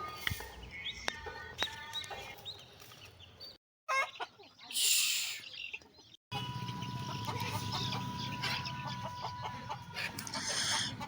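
Breeding chicks and chickens cluck and chirp in short bursts around a farmyard, with a few abrupt cuts and brief gaps, some background noise throughout.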